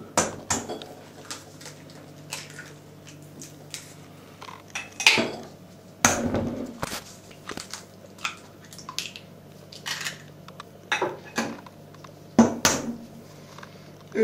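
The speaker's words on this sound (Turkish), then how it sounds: "Şimdi yumurtalarımı kırarak başlıyorum." Five eggs cracked one after another for homemade pasta dough, flour already measured out: sharp, close taps and clicks with irregular pauses and soft squishy handling between them, no voices.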